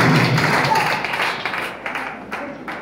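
A church congregation clapping during a service, a loud patter of hands at first that thins into scattered separate claps as it fades, with some voices mixed in.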